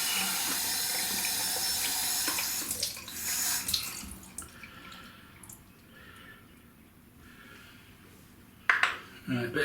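Tap water runs into a bathroom sink during a wet shave, a loud gushing stream that cuts off early, leaving quiet drips and small splashes, then a brief burst of running water at the end.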